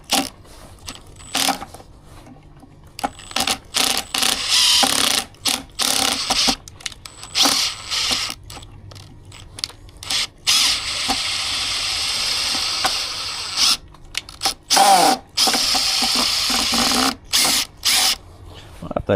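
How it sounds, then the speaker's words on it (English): A power drill works screws out, sounding as repeated bursts of whirring and ratcheting that are separated by short silences. The whole sequence is loud and close. "We go get the drill."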